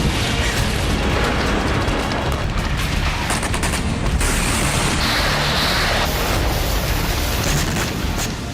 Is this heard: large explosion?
yes